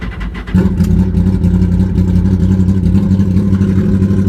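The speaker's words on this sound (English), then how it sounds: "let's fire this thing up. It sounds, it's got a sound all its own." A 1972 Honda N600 with an open header fires up after a brief crank, then settles into a loud, steady, buzzy idle that runs close by without talk.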